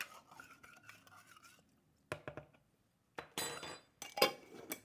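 Spoon stirring a teaspoon of baking soda into two teaspoons of hot water in a small cup, giving scattered clinks and scraping bursts that come and go with short pauses, close up and quiet.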